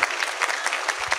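Lively applause from a crowd of students at a national defense education session, dense rapid clapping close to the microphone and sustained throughout.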